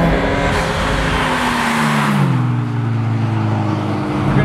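A turbocharged Mitsubishi Lancer Evo 9 tuned on E85 to about 520 wheel horsepower accelerates hard, its loud engine note climbing steadily in pitch before a gear change drops it and the rise begins again.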